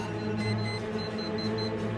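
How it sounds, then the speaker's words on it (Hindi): An alarm beeps in a hostel room with a steady repeating electronic tone over a constant hum, ringing on without anyone speaking. "देखिए कि अलार्म अपने आप बंद हो गया।"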